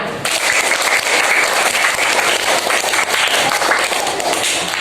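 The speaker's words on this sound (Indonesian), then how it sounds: "Beri tepuk tangan buat kita semuanya." A classroom of students breaks into applause at the close of a lesson, a brisk, fairly loud burst of many hands clapping that stays steady for several seconds with a few louder individual claps.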